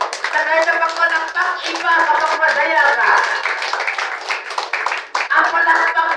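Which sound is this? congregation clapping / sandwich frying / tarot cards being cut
congregation clapping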